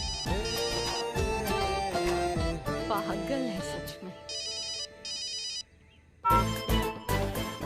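A phone ringtone in a Hindi TV drama scene chimes in short repeated electronic bursts, partly under someone speaking and music, then cutting off.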